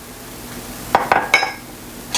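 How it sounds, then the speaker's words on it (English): Canned black-eyed peas stirred in a pot with a spoon: a quiet start, then a short cluster of three or four clinking metal scrapes, and one more clink at the very end. "I'm going to stir this."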